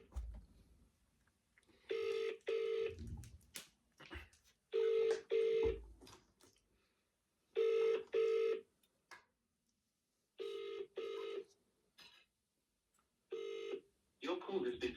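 A phone call is placed: touch-tone dialing beeps are followed by a series of evenly spaced ringback tones, each a pair of short buzzing rings with pauses between, heard quietly and close with no talking.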